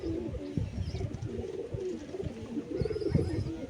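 Pigeons coo in low, throaty murmurs close by, the soft rolling calls repeating continuously.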